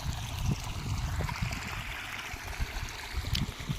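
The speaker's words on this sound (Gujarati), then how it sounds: "જો આવું કંઈક પાણી આવે છે." Water flows from a farm irrigation line in a village field, a soft, continuous trickle and gurgle with faint low rumbling and no talk.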